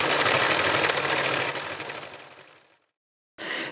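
A sewing machine stitches in a fast, even mechanical rattle close to the microphone, slowing and stopping, then a short burst of stitching resumes after a brief pause.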